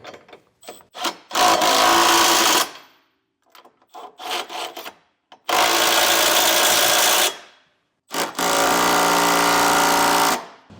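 Power tool tightening 18mm frame bolts for a trailer hitch receiver on a 2018 Honda CR-V, running loud in three sustained bursts of a couple of seconds each, separated by clanking handling noises.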